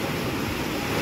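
Water rushing down a waterfall at Sukhal Dari during a fair, turning milky white as it falls; a steady, loud broadband roar fills the whole second without pause.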